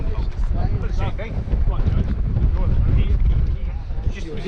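Wind gusts across an outdoor precision rifle match, buffeting the microphone in a constant loud rumble while people talk over it.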